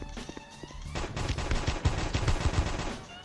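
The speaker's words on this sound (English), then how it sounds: "So currently my favorite gun is the Anaconda because the longer you shoot, the faster" Anaconda gun in a video game firing a rapid, accelerating burst of gunshots after a short pause, loud and sharp against faint background game sounds.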